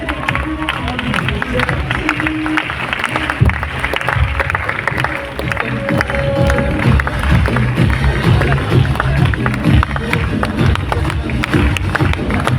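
Sustained crowd noise fills a rail auditorium during a recognition ceremony, with dense babble and scattered clapping that holds steady and loud throughout, with no clear burst of applause standing out.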